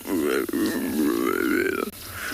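A low, guttural grunting roar from an impala on a South African safari, rough and burp-like, rumbling on for about two seconds up close.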